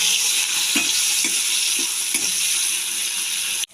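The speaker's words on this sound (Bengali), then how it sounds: "ফুলকপিটাকে একটু ভেজে নেব হলুদ নুন দিয়ে" Cauliflower frying in hot oil with turmeric and salt, a loud, continuous hiss with a few soft stirring knocks spaced about half a second apart, then a sudden cut-off at the end.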